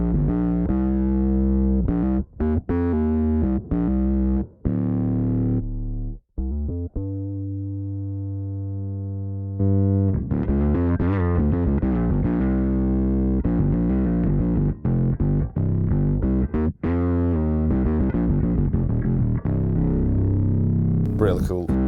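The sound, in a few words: Darkglass Electronics Kaamos bass synth pedal in mode 2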